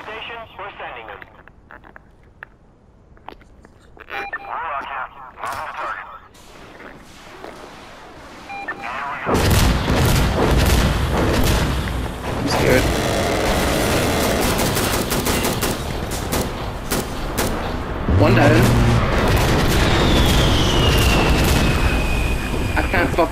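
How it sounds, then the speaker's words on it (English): Autocannon strike explosions in the Insurgency: Sandstorm video game. Quiet, sparse sounds come first, then heavy rapid blasts and gunfire break in. After that a loud, dense barrage of booms and shots keeps going without a pause. "One auto cannon strike coming right up, sir."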